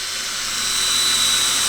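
A power drill boring guide holes into a car bumper during an SR20 engine swap on a GT86 project car; a steady, high-pitched whining buzz runs loud and close, growing slightly stronger over the short burst with no talk.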